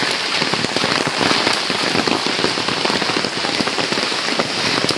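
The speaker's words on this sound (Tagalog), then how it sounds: "Inabutan kami ng ulan." Steady heavy rain patters and crackles densely on a hard surface, loud and close, continuous throughout without voices.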